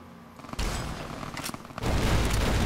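Automated turrets opening fire in Fallout: New Vegas, a quiet lull broken by sudden bursts of rapid gunfire and booms that intensify into sustained loud shooting toward the end.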